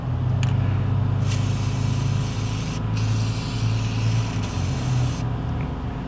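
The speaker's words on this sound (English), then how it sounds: "Spray it with a bit more fluid film." A continuous hissing spray of Fluid Film onto a nut during Nissan Xterra brake caliper work runs throughout over a low steady rumble, with a few brief breaks and faint clicks.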